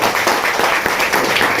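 A seminar audience at a leaders' meeting claps in a steady, continuous wash of applause, even and fairly loud throughout, with no clear talk over it.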